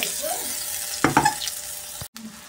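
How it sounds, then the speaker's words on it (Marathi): Finely chopped onion puree frying in oil for a spinach and potato gravy, giving a soft sizzle with a few brief scraping stirs near the middle and a sudden cut near the end. "कांदा बारीक चिरून तेलात परतून त्याची प्युरी केलेला आहे आणि आता ते भाजून घेणे"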